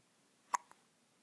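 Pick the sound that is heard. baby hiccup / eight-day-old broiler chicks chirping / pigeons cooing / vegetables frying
baby hiccup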